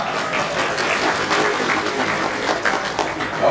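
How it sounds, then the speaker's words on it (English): Audience at an annual meeting applauding together, a steady dense wash of clapping at moderate volume throughout, with faint voices mixed in. "give yourself a big hand of applause"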